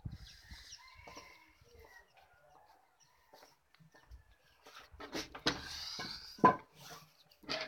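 Chickens kept inside a wooden woodshed cluck and squawk in short, scattered bursts, faint at first and growing louder and busier toward the end, with one sharp loud call near the close.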